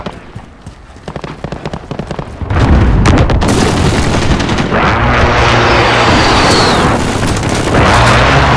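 Precision airstrike explosions in Call of Duty Modern Warfare: after light scattered popping, a sustained loud barrage of booming blasts and rumbling impacts rolls on continuously, dense and close, with no talk over it.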